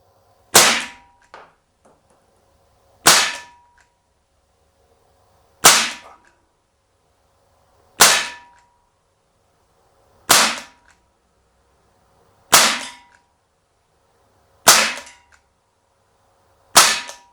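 Eight sharp, loud pellet shots from an Umarex Desert Eagle .177 CO2 blowback pistol, fired at a slow, steady pace about two to three seconds apart, each with a quick decay into quiet.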